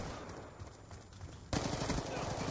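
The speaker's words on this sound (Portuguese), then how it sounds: "Um tiro." Rapid automatic gunfire from the video game Black Ops 2, with a quieter burst of shots followed by a louder, close stream of rounds in quick succession.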